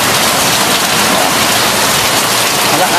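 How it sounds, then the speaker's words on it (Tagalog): Heavy rain pours down steadily during Typhoon Uwan in the Philippines, a loud, dense, unbroken roar of water that fills the whole stretch without letup. "kala ko huminto na si Bagyong Juan. Ito, bigla naman bumuhos."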